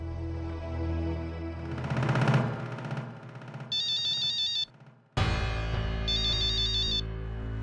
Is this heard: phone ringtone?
yes